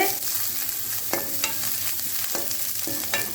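Onion and cabbage sauté in a pan for a chutney, giving a steady close sizzle broken by several sharp spatula scrapes and stirs against the metal.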